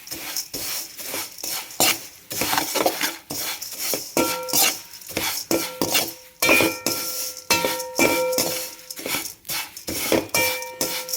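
Flattened rice roasts in ghee in a pan for a sweet laddu, stirred with a metal spoon that gives rhythmic scrapes and clinks against the pan over a faint sizzle, and no voices.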